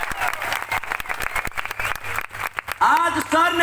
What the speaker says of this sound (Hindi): डॉक्टर संजीव कुमार सर के लिए एक बार जोरदार तालियां